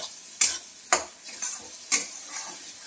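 Masala spice paste for chicken kosha being stirred and fried in oil in a kadai, with spaced scraping strokes of a spoon over a steady close sizzle, no voices.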